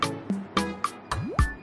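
Apple Watch SE birds chime, a brief run of soft chirping tones, one with a quick upward sweep, faint and close with no other sound.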